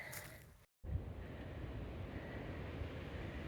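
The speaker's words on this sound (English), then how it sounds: "Listen to the wind." Steady low wind rumble buffeting outdoors, briefly cut off then returning strong and continuous, close and roaring without voices.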